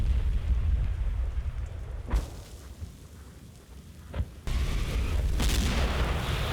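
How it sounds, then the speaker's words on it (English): Mortar shells landing on an objective in the Combat Mission: Battle for Normandy game, heard as a few heavy booming blasts, with a sharp crack near the start and another before a sustained rumbling roar resumes. "as the mortars continue to trickle down onto the objective"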